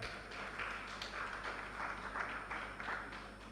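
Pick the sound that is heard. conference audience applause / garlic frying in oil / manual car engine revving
conference audience applause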